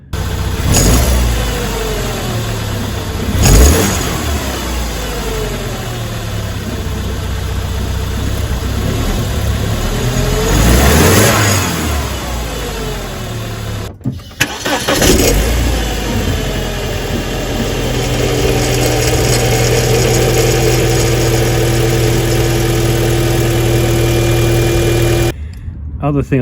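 BMW E46 with an N42 engine idling with a timing chain rattle, a steady close mechanical drone with brief revs and a faint clattering tick, wind buffeting the microphone at times.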